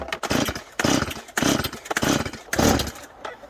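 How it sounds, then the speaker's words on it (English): A gas chainsaw revs in several loud, close bursts of roughly half a second to a second each, separated by brief drops, with the engine snarling harshly through each pull near a wooden board. "I'm gonna get the chainsaw out anyway"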